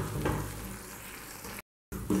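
Sesame gajak mixture is stirred continuously in a pan, producing a soft, close sizzle and scraping rustle, broken by a brief moment of complete silence.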